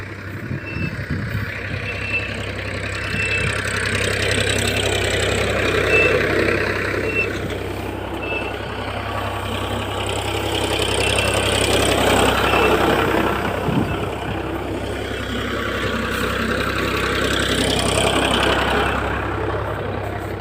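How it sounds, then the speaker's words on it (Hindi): A tractor engine runs nearby, a continuous low rumbling drone with slowly swelling and fading intensity throughout. "आवाज़ हो रही थी ट्रैक्टर की, इसलिए थोड़ी देर आवाज़ बंद हो गई।"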